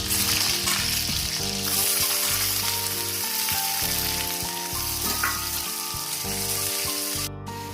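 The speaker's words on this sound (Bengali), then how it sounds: "কাজুটা দিয়ে হালকা করে ভেজে নেবো।" Constant sizzling and crackling of cashews frying in oil, loud and close, with occasional scraping of a utensil stirring the pan.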